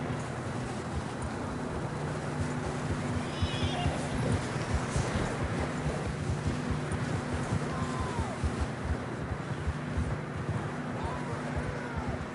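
Horses gallop across rough terrain in the Red Dead Redemption 2 video game, their rapid, rhythmic hoofbeats steady and close, with faint game voices and ambience behind.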